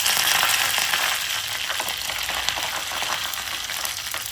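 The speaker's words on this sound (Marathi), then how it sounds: "परत मिरची टाकलेली आहे आणि हे जिरा आणि मोहरी आणि कढीपत्ता." A tadka of chili, cumin, mustard seeds and curry leaves fries in hot oil for dal, giving a steady, close, dense sizzle that runs throughout with faint crackles and pops and no voices.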